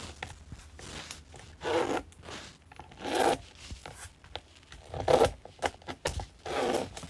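Zipper handled at a sewing table while making a jelly-roll tote bag, giving several short rasping zips and rubs in separate bursts, close and moderately loud with quiet pauses between.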